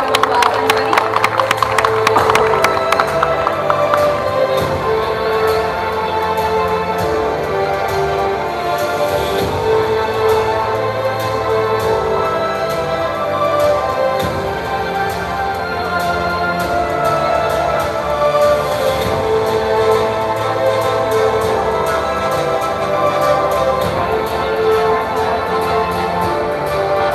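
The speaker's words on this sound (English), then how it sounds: "Let's give him a round of applause, everybody." An audience at the Miss Grand Philippines 2023 sashing ceremony applauds and cheers in a loud, continuous wash of clapping and crowd noise that lasts throughout, with voices mixed in.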